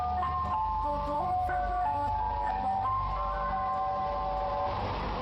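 A white ice cream van plays a warbling, slightly detuned chime melody while driving very slowly through a neighborhood, the tune repeating steadily and loudly over low engine rumble.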